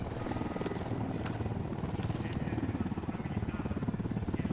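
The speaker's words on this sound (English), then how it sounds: "Incoming chopper." A helicopter in the Ghost Recon Wildlands shooter game, a continuous pulsing rotor thump with broad engine noise holding steady throughout, no talk.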